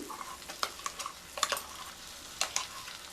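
Salt, turmeric and ground flat bean paste are stirred in a frying pan, giving a quiet, close sizzle broken by repeated spoon scrapes and clinks in uneven bursts; no one speaks.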